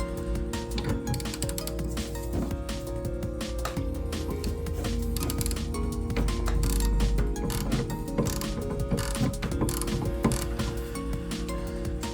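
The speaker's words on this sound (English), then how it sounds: "so the 13mm socket on one side, and then on the other side hold the counter with this wrench, 15mm wrench" A 13mm socket wrench working a brake caliper bolt on the rear brakes of a Ford Focus Mk1 estate gives steady, close mechanical ratcheting and clinking that runs continuously throughout, with no talking over it.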